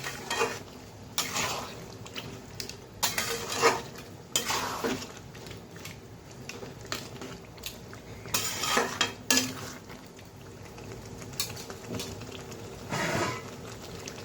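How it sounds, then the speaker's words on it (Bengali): Goat meat is stirred in a pot and then covered. Intermittent scraping and clanking of a spoon against the cookware sounds over a low background sizzle, with irregular bursts of stirring and a brief metallic clatter. "ভালোভাবে নেড়ে ঢেকে রাখবো"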